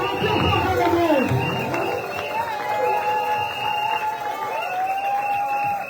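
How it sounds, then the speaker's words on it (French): A church congregation at a Sunday service cheers and shouts in acclamation, a loud sustained wash of voices with rising and falling whoops and cries filling the room throughout. "Acclamations pour bien-aimé."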